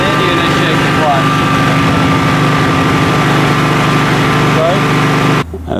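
Engine-driven floor grinder with stones running at steady speed after its clutch is engaged, a loud constant mechanical drone that holds throughout and then drops away abruptly near the end.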